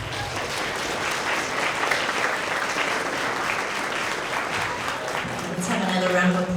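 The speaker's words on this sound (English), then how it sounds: "Let's have another round of applause for all of our English language arts, Tigers of the Quarter" Sustained applause from the audience at a grades 6–8 school award assembly, dense and steady for several seconds, swelling slightly near the end, with a few voices murmuring underneath.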